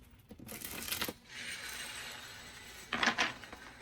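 Tarot cards being shuffled by hand, with short crisp bursts of riffling and slapping separated by a softer, steady rustle, close and fairly quiet.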